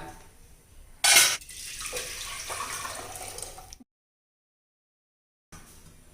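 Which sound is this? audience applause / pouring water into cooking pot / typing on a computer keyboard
pouring water into cooking pot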